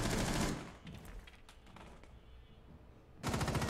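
Automatic gunfire in a tactical shooter game, with dense rapid bursts at the start and end and scattered sharper shots in between, loud and close.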